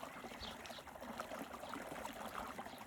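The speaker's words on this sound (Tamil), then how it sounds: "இப்படி தண்ணி ஐஸ் எல்லாம் உருகி போய்கிட்டு இருக்குது." Meltwater from ice runs in a small stream, a faint, steady trickle and gurgle heard close by with no talk over it.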